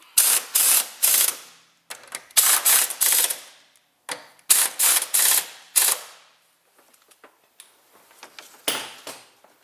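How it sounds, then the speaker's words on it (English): Ratchet turning a 14mm socket during a Toyota front shock replacement, several quick bursts of sharp clicking in short repeated runs, close and loud, with brief pauses between strokes. "14mm socket."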